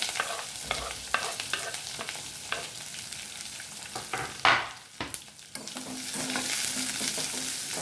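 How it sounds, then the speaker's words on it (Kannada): Chopped onions and two small green chillies fry in a pan, a soft steady sizzle broken by repeated clinks and scrapes of a spoon stirring. "ಸ್ವಲ್ಪ ಫ್ರೈ ಮಾಡ್ಕೊಳ್ಳೋಣ ಚೆನ್ನಾಗಿ."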